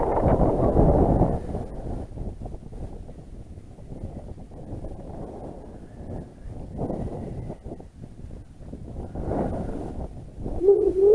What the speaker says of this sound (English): Cold old wind that.